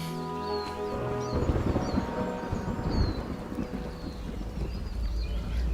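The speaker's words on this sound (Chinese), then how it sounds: "大嫂，好端端的，怎么突然间就打雷了？" Thunder breaks suddenly and rolls on as a deep, rumbling roar that fills the air and stays loud to the end, with no voices over it.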